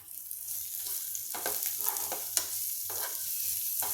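Ground masala fries in a pan for a Marathi tamarind-jaggery amti while being stirred, with a steady soft sizzle broken by repeated scraping strokes of the spoon close by.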